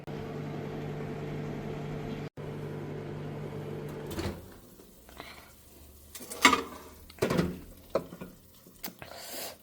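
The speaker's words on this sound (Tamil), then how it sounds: "இப்போ மைக்ரோவேவில் அது ரெடி ஆகிட்டுருக்கு" A kitchen microwave oven cooking stuffed capsicums hums steadily for about four seconds with a brief dropout, then falls quiet, followed by a scatter of clicks, knocks and clatter.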